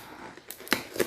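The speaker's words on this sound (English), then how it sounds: "Got to cut this off." Sellotape being cut off GoPro LCD Touch BacPac packaging: a few quick, crisp snipping clicks in a row, close and fairly quiet.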